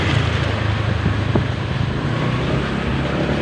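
A continuous low engine drone mixed with wind buffeting is heard while riding a motorbike outdoors, steady and close throughout with no talking.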